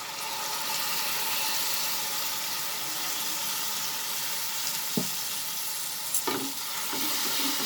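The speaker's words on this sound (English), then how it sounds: "We'll just saute this little bit so that the raw smell of this ginger and garlic disappears over medium flame" Ginger garlic paste and onions sauté in a pan over a medium flame for a prawn and green pea masala. A constant close sizzle runs throughout, with a few stirring scrapes and light clinks near the end.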